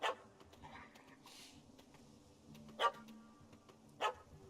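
Dog barking in the Witcher 3 video game, a few sharp separate barks at moderate distance over quiet game ambience, with soft background sounds between.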